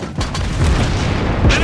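Torpedo impact explosion in World of Warships Blitz, a deep booming blast against a Tier 8 U.K. battleship, loud and close with rumbling low-end decay and a second thump near the end, under voiced game alerts.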